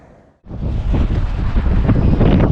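Strong wind buffets the microphone at a cold boat ramp, starting abruptly after a short quiet moment and then roaring loud and steady throughout, with no voices.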